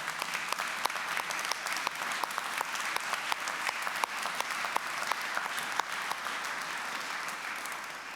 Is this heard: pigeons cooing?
no